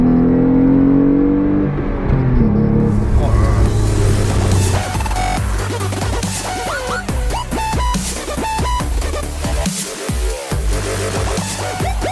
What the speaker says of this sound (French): Mais alors cette mélodie de ce V6, c'est fabuleux.